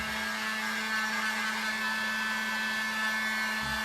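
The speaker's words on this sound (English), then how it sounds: "The thicker you get your paint when you use a heat dryer like that on it" A heat dryer blows steadily on thick wet red paint on a Christmas cross craft, giving a close, continuous whirring hum that stays even throughout with no talk over it.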